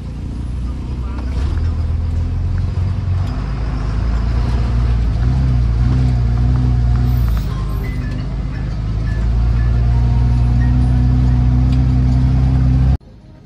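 An HRTC bus engine runs steadily at a mid pitch while the vehicle arrives at Delhi Gate in Nahan, Himachal Pradesh, holding a loud, continuous low drone with slight rises in revs before cutting off near the end.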